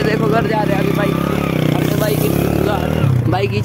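A motorcycle being ridden out to a farm field hums with a steady, close engine drone, while someone talks over it throughout.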